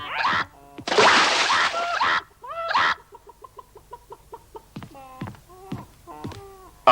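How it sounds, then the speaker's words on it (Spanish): A hen is lowered into a basin of ice water, with a brief splash and a flurry of loud squawks, then a run of rapid, nervous clucking close by. "Ponga una en una palangana de agua helada, señor Rooks."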